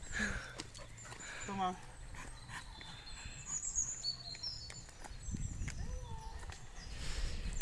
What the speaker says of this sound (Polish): mamy małe spotkanie z psami